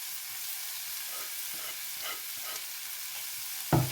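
Carrots and green chillies sauté in a pan for capsicum noodles with a steady, soft sizzle throughout. A single metallic clank sounds near the end.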